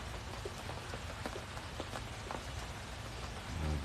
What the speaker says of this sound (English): The rain is nice and calming.